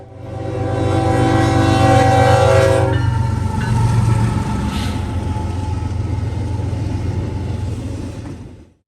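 A loud train horn blasts for several seconds as a CSX freight train rumbles past nearby in Marysville, Ohio, followed by the steady roar and clatter of passing railcars.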